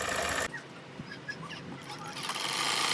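A sewing machine stitches black fabric with black thread, starting with a loud burst of whirring that drops to a softer running hum with light mechanical clicks, then swells again toward the end.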